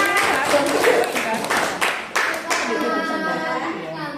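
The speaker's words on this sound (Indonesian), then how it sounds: "Tepuk tangan dulu sayang." Steady hand clapping in an even rhythm during a children's lesson, with a voice and other talking mixed in underneath.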